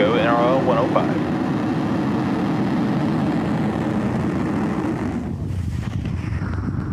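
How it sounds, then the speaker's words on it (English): A SpaceX Falcon 9 rocket lifts off from Vandenberg for the NROL-105 mission, a loud sustained broadband roar that holds steady throughout, with a launch commentator's voice heard over it at the start. "And liftoff of Falcon 9."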